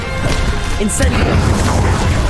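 A fire spell cast in the video game Hogwarts Legacy gives a loud burst and boom amid continuous combat noise, with a voice calling out the spell.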